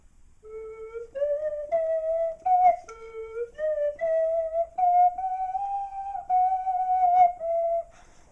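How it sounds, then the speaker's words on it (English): A slide whistle plays a lilting waltz melody alone, its tone sliding between sustained notes in a steady three-beat rhythm. "Such a beautiful waltz played on a slide whistle."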